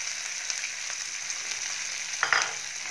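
Carrots, capsicum, green chillies and cumin sizzle steadily in a hot pan for a vegetable masala dal khichdi, then a brief louder rush near the end as the vegetables are tossed, close and without voices.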